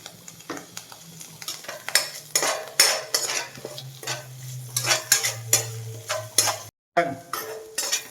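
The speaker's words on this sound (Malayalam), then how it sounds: "ഉള്ളിയും വേപ്പിലും മൂത്തു അങ്ങനെ നമ്മൾ കറിയിലേക്ക് ഇടണം" Fried onion and curry leaf tempering sizzles as it is poured into a curry, followed by clinking spoon and pan stirring sounds and a steady low hiss, with brief scrapes and clatters throughout.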